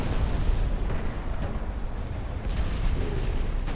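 Naval guns fire on battle cruisers in the warship game Ultimate Admiral Dreadnoughts, a dense, continuous rumble of overlapping booms and blasts with no pauses.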